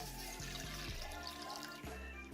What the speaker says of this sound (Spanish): se vertirá el agua con el soluto